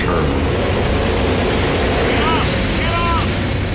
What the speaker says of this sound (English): I heard the engines rev